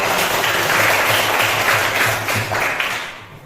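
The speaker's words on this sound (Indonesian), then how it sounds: "Kita berikan aplaus dulu kepada kelompok 2 yang sudah membacakan" A classroom audience applauds a student group after their reading, with steady, dense clapping from many hands that fades slightly at the end.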